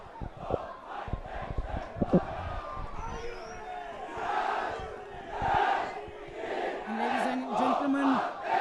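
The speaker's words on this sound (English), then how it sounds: "the crowd is really getting energized here, cheering on the two teams" Football crowd at the Royal-Thomian schools derby cheering on both teams, a broad swelling roar with rising surges and scattered shouts, heard alongside commentary and a few sharp thumps.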